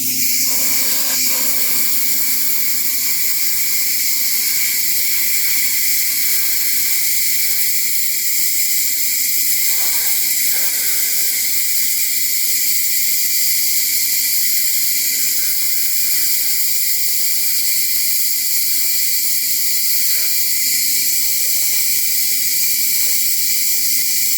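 Airbrush spraying base coat paint onto a 1/4 scale Samurai Wolverine figure, a loud, steady, close-up hiss of air that continues unbroken throughout with no speech.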